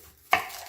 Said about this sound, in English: All right, let's get this onion chopped up.